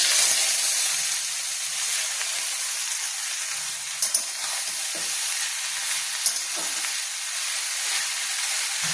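Bottle gourd and mustard seeds sizzle in hot oil, a steady close hiss with a few soft clicks and stirring knocks, no voices.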